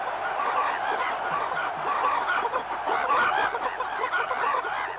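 A flock of hens clucks continuously inside a henhouse, a busy overlapping chorus of bright, chattering calls at steady moderate loudness.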